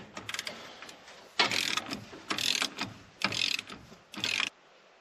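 A ratchet with a deep socket works on the engine of a 1983 C30 truck, clicking in several quick bursts of rapid pawl ticks separated by short pauses, close and clear.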